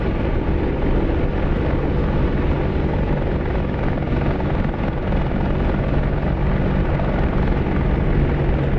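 Continuous roaring drone of an Apache helicopter in the DCS World flight simulator, a steady close rotor-and-turbine wash that holds at an even loudness throughout.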